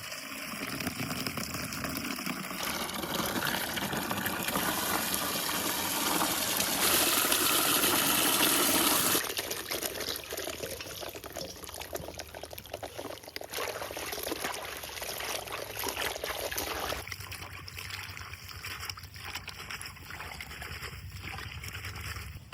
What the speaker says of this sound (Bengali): এবার মাসালের জল দিয়ে কচলাই কচলাই ধুই নিমো